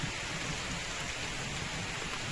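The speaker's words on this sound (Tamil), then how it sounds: "இதை பாருங்கள், மழை நல்லா பெய்ய ஆரம்பிச்சிருச்சு." Rain pours steadily onto a home garden, a dense continuous hiss of drops with no voices over it.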